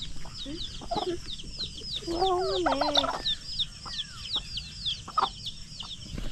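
Turkey calls including a gobbling, warbling burst, over a backdrop of constant rhythmic insect or bird chirps on a farm; a person briefly speaks.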